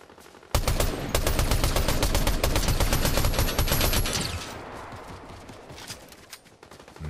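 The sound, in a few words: gunfire in Fortnite video game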